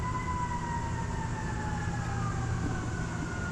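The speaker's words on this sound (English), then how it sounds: "Get the sirens and the fire trucks out here." A fire truck siren wails steadily in the distance, its rising and falling tones sustained and clear over a constant low hum of traffic.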